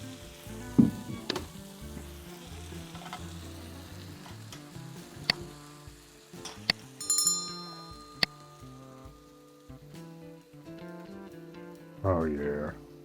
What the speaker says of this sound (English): Let me give it another stir.